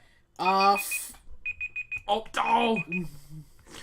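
Quiz timer alarm on a sports trivia podcast, a short burst of rapid electronic beeps going off between people talking.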